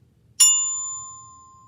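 A single bright bell kit note, C, struck once, ringing clearly and sustaining as it slowly fades, with faint low background hum.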